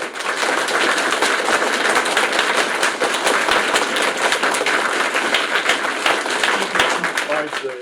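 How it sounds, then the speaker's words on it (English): An audience at a recorded IT and OT convergence event breaks into a loud, continuous round of applause, a thick wash of clapping that holds steady throughout with no pauses. "All right. Well, round of applause."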